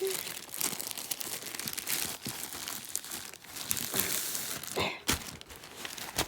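Close crinkling and rustling of a plastic bag as a Boncare heating pad is pulled out, in irregular bursts with soft breaths and a few sharp crackles.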